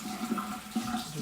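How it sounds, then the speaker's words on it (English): Cheesecloth being washed under running tap water, a steady close wash of flowing, splashing water over a brief moment with no talking. "you wash the cheesecloth"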